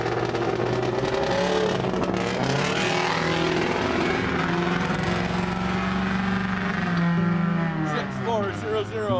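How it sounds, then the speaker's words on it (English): Mini car on a land speed record run at about 146 mph, its engine a loud sustained roar with shifting pitch and heavy wind rush, steady throughout and fading slightly at the end. "The Mini hits 146 miles an hour"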